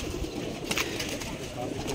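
Pigeons coo softly amid a busy loft packed with many birds, a low murmur under a noisy, crowded background with some rustling, while people talk nearby.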